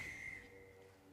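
A referee's whistle at a rugby match gives one short, sharp blast at the start, then the field noise of the game carries on faintly after it.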